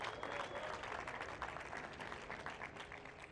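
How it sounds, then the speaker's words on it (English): Audience applause at the Globe Soccer Awards gala in Dubai, welcoming two football stars on stage; steady dense clapping fills the whole stretch at moderate volume with a faint murmur of crowd underneath. "Big round of applause for Mr. Robert Lewandowski and Kylian Mbappe."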